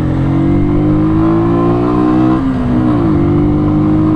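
A motorcycle engine revving loudly and close, a steady high drone that dips in pitch partway through and then settles again, with no talk over it.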